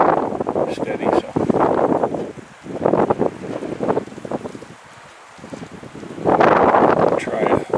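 Strong wind gusting outdoors near a cabin in moose country, buffeting the microphone in loud roaring surges with a brief lull, a voice talking at times.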